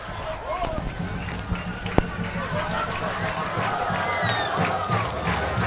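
Nova Venécia supporters fill Zenon Pedrosa stadium during an under-20 Campeonato Capixaba football final, keeping up a steady roar of chanting and shouting, with a single sharp thump cutting through the crowd noise.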